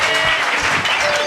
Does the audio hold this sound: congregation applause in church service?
yes